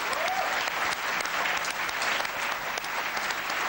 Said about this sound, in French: vous l'entendez, extrêmement applaudi lors de cette conférence de presse